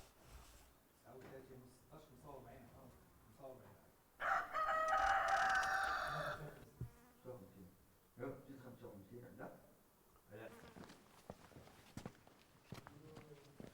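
A rooster on heaps of straw and firewood at a cave mouth in Oujda crows once, clear and loud, for about two seconds. Someone narrates in a calm voice before and after the crow.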